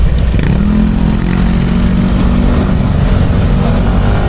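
A motorcycle engine runs steadily at a low idle, loud and close, a continuous rumbling throb.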